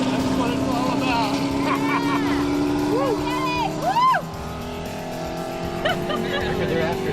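Race car at a Bonneville land speed run, pushed by a pickup truck: a steady engine drone heard from a distance with rising and falling pitch sweeps, under close talk.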